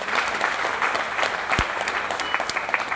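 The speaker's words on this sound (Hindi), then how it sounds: "जोरदार ताली बजाएं इनके लिए।" Audience applause at a business plan presentation, a dense steady patter of many hands clapping at a constant level for the full few seconds, with a couple of sharper individual claps standing out.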